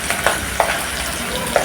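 Oil frying in a pan for Kovai style chicken kulambu, a constant close sizzle punctuated by a few quick scraping stirs.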